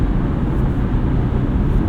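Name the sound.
cabin wind and road noise at speed, 2024 Subaru Outback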